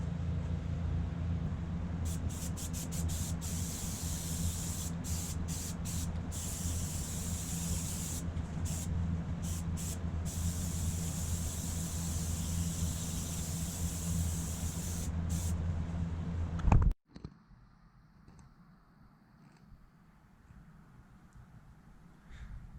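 A spray can hisses steadily and loudly up close as a second coat goes onto a car grill, with brief pauses between passes before the spray cuts off and leaves a quiet room.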